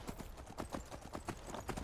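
Horse hooves in Skyrim, a steady, rapid clip-clop rhythm of many close hoofbeats at a brisk pace, moderately loud and alone.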